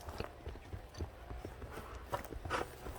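A horse walks with hooves clip-clopping on the ground in an outdoor rural setting, irregular soft thuds at a walking pace, moderately close and fairly quiet.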